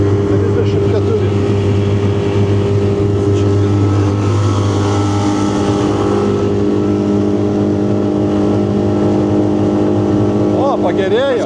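A 20 HP Tohatsu outboard on a 2025 Whaly 380 boat during a test drive, droning loud and steady throughout with strong low harmonic tones and a slight pitch shift toward the end.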